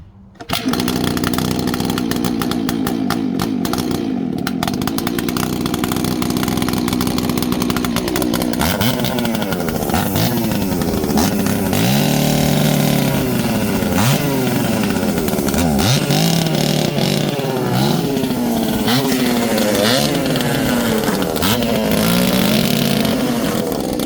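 A 1982 RS Capri engine runs steadily for the whole stretch, loud and close, with a rough, buzzy idle that rises and falls through several revs in the second half.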